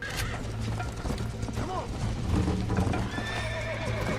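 A horse in Red Dead Redemption lets out a loud, wavering whinny over clip-clopping hooves and clanking mechanical noises, with a voice talking underneath.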